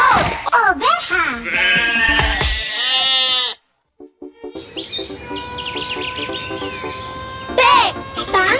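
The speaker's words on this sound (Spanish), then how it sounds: "O. Oveja." Sheep bleat in a series of loud, wavering calls up close, followed after a brief pause by a softer background of chirping birds and another bleat near the end.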